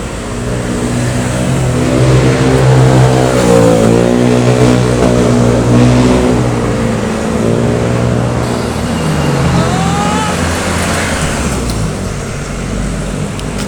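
Vehicles passing along a busy road, loud and close, with engines rising and falling as cars and motorbikes rush by one after another, no talking.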